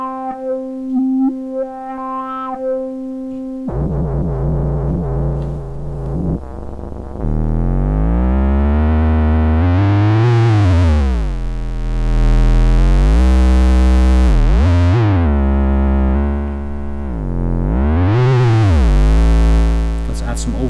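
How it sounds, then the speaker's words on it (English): Neutron Flux filter synthesizer with its resonance turned up: after a thin, sparse opening, a loud, harmonically rich tone sweeps up and down in long, rising and falling whistling resonant peaks. "wait until we turn up the resonance and we hear what this thing has in store"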